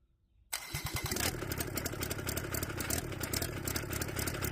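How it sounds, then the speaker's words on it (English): A small Kubota D722 diesel engine cranks briefly and catches, then settles into a steady, loud, close running clatter with no voices. "this tiny little engine coughed back into life, and for the most part, it sounded great"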